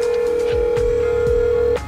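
A telephone line gives a steady tone during a call to a restaurant to place a carry-out order, continuous and fairly loud before cutting off near the end, with faint background sounds beneath it.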